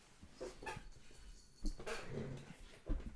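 A pet dog whimpers and whines in a few short bursts indoors, faint and close, with soft shuffling in between.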